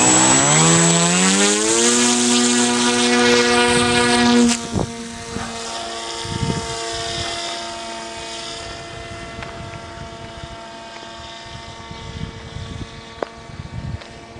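A modified Peace Drone in flight with a larger 13.7-inch propeller, its motors giving a loud buzzing whine that drops in pitch as the throttle is cut back, then continues lower and quieter with fluctuating tone.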